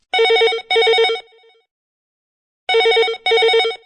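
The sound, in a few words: telephone ringing on radio call-in show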